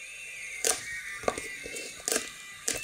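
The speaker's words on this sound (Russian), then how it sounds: "Играет сельдевая банка и вентилятор." A computer cooler fan wired to play a simple melody through a herring tin gives thin, tinny sustained tones, broken up by sharp metallic clicks and ticks at irregular intervals, close and fairly quiet.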